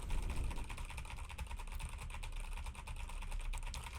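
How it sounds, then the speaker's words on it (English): Rapid computer keyboard typing with mashing of keys like WASD, spacebar and R plus mouse clicks, a dense continuous clatter of close, fairly even keystrokes with no talking. "I'm now going nuts on the keyboard, just, you know, going absolutely ham"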